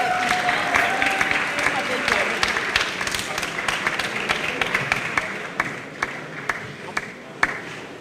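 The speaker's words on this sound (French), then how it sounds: "On va encore les applaudir" An audience at a book festival at the Institut Français in Kinshasa applauds, a dense, steady clapping that thins slightly toward the end.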